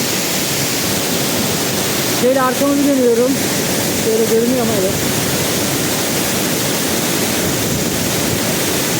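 Loud, steady rushing water from a waterfall, Cehennem Waterfall, roars throughout, with a person talking briefly over it partway through.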